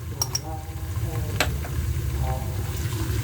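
Spices and black pepper frying in hot oil, a steady sizzle with stirring scrapes and a few brief clinks, close and moderately loud.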